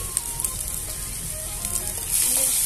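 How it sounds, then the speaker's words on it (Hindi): Fish curry with sangri sizzling in a hot pan as turmeric goes in, steady crackling oil close by, with a few light clinks and a brighter hiss near the end. "और अब डालेंगे हल्दी।"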